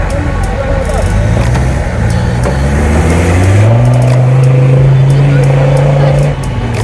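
An off-road Ultra 4 race car at Walters Arena in South Wales passes close by, its engine rising through several revving gear pulls into a loud, sustained drone, with spectators talking in the background.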